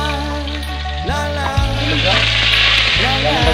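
Bullfrog meat frying in a pan, a steady close sizzle running throughout with a low hum beneath and brief clatters of stirring.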